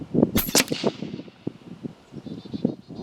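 Umarex Gauntlet 2 SL .30 caliber air rifle firing, with a sharp, loud crack near the start followed by scattered softer clicks and knocks that fade out over the next few seconds.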